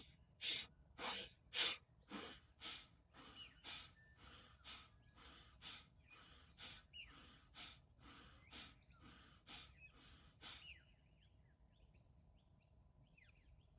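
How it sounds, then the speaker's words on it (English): Skull shining breath in a yoga class: about fifteen forceful rhythmic nasal exhales, sharp snorting puffs roughly one per second, fading slightly before stopping into quiet near the end. "As we exhale, forcefully bringing that breath back down."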